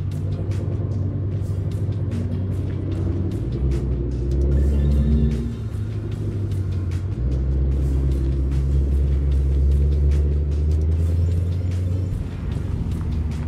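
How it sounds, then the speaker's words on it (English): A Lamborghini Aventador SV sits with its engine running, giving a steady, deep rumble that holds close and loud throughout, with a slight dip partway through before the drone resumes. "Pick up one other vehicle, the Lamborghini Aventador SV."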